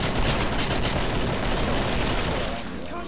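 Dense, loud gunfire from dual hand cannons in the Killing Floor co-op video game, rapid overlapping shots blurring into a continuous roar under the noise of the game, easing slightly at the end.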